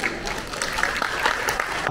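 An audience at the 2023 Greater Bay Area maker education seminar claps in steady, dense applause for a school group taking the stage.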